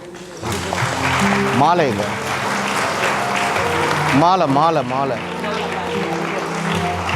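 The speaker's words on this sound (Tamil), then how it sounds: "கைதட்டுங்க எல்லாரும்." Guests at a church wedding Mass clap together, steady applause running under voices and chatter from the congregation.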